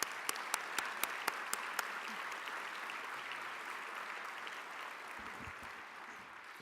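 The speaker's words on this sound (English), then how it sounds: "Let's give all of our teachers in Grand Rapids Public Schools a round of applause." An audience at a school foundation gala in Grand Rapids applauds teachers: steady, dense clapping from a large crowd that holds for several seconds, with a few sharp individual claps standing out at the start.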